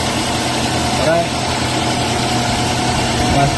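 Perodua Myvi engine idles steadily during radiator replacement and extra fan fitting, a constant low hum and vibration filling the whole stretch without change.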